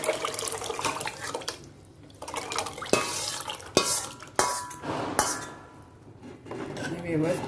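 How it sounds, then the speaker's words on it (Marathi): A spoon scrapes and clanks around a metal pot of lentil curry in uneven strokes, with wet stirring sounds and a few sharper knocks against the rim. "व्यवस्थित असं ढवळून घेऊया"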